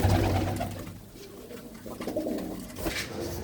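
Pigeons coo in a loft of blue-footed birds, a steady low murmur of several voices layered together, fairly close and continuous with occasional brighter rustles.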